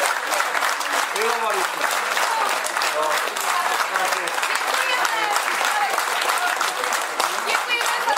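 A theatre audience at a Czech comedy stage show keeps up steady, dense applause with cheers, and a voice speaks briefly over the clapping.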